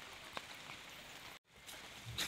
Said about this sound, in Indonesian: lagi mendung disertai dengan hujan gerimis dan kabut tipis.